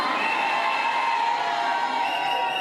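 Worshippers in Libreville, Gabon, cheering and shouting with joy at a prophet's arrival, a dense continuous roar of voices with whoops rising out of the mass.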